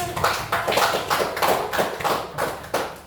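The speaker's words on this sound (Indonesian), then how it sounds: "Tepuk tangan sekali lagi." A class applauding, a dense rhythmic patter of many hands clapping together, steady and moderately loud throughout.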